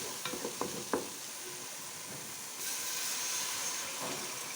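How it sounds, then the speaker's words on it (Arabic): Garlic frying with tomato paste in a pot, a soft, steady sizzle and hiss after a few sharp clinks of a spoon, the frying swelling a little louder midway with no talk. "هسه بهاي المرحلة اضيف الثوم، ما اضيفه ويا البصل على مود يتنكه يعني المعجون"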